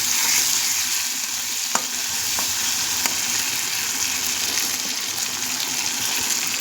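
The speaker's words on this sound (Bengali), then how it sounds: "আমি কিন্তু এতে একটুকু জল দিইনি, ওই তেলেতেই কষা হচ্ছে।" Fish being sautéed in oil with no water for a spicy fish oil-pouch curry, a continuous sizzle and crackle with a few sharp ladle taps, close and steady.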